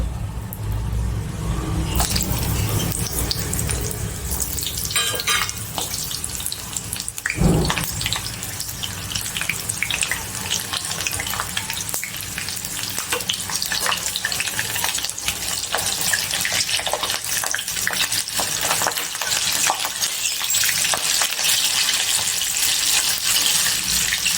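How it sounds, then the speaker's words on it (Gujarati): Green chilies fry in hot oil for dal vada, a loud, dense, continuous sizzling hiss that starts abruptly and roars steadily close by. "હવે એમાં આપણે મરચાં તળી લઈશું"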